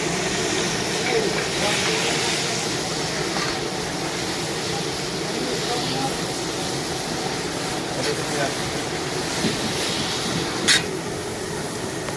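Pomfret fish pieces fry one by one in a pan, producing a long, even, hissing sizzle with occasional sharper crackles, and a voice is faintly present beneath it.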